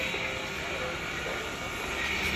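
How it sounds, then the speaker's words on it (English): An old coal train rumbles steadily nearby on a trail near Broadway and Susquehanna Street, a continuous broadband roar with no distinct beats. "The old coal train."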